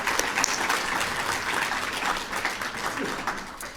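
Sustained applause from an audience at a First Nations business forum in British Columbia, dense steady clapping that holds at an even level throughout without speech breaking through.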